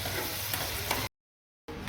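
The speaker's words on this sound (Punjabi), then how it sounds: "ਚੋਲ ਦਾਲ ਤੜਕਾ ਲੱਗਣ ਲਿਆ ਜੀ" Tadka tempering for dal and rice hisses and sizzles in a hot pan, a steady close frying crackle that cuts out briefly and then returns.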